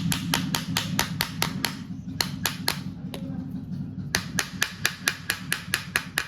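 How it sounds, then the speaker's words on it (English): Hammer blows on seized screws of a Bajaj Pulsar motorcycle part during teardown, sharp metallic strikes in quick close bursts with a short pause midway, no talk. "Next is, let's try shock. Hitting the screws."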